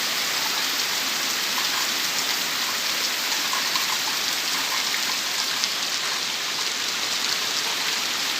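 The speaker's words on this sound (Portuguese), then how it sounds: "Deu uma chuva bem forte, uma ventania bem forte" Heavy rain pours steadily on a rural smallholding while a strong wind blows, making a dense, constant hiss with no pauses and no voices.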